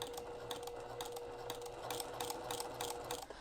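An in-the-hoop quilting machine stitching through a quilt, a steady rapid mechanical chatter with a constant whine running evenly throughout, moderately quiet and close, with no talk.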